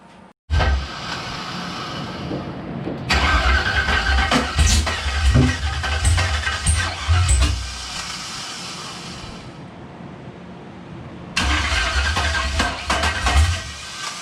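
An engine cranks, catches and runs with a loud, steady, rough idle and a clacking rod knock. It cuts out for a couple of seconds, then restarts strongly.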